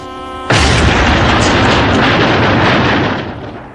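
A loud cartoon cannon blast fired from a ship in a Sonic the Hedgehog animated show: one sudden booming explosion that sustains as a broad roar for about three seconds before fading, with no talking.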